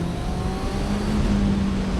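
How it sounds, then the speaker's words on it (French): A motorcycle engine's exhaust, a characterful motor on a bike priced at 6799€, holds a steady, loud mid-pitched drone with a rising tone partway through, close to the microphone and without speech. "capte bien le son de l'échappement"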